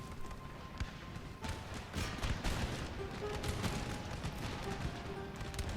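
Massed musket volleys and cannon fire in the video game Empire Total War pour onto infantry squares in a continuous dense crackle of shots, with heavier thumps and booms rolling underneath.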